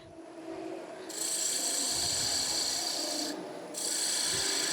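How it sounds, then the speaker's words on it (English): A wood lathe spins as a gouge cuts into timber, giving a loud steady hissing rasp that starts after a second, drops briefly and then resumes, close and unaccompanied by speech. "So I'm going to turn a little bit more timber away."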